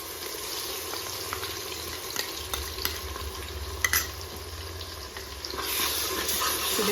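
Ginger garlic paste sizzles and fries in a pan for goat head and leg curry, a steady soft hiss with occasional stirring clicks, close and fairly quiet, no talking.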